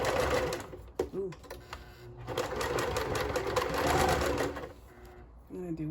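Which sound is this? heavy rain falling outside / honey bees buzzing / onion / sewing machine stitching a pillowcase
sewing machine stitching a pillowcase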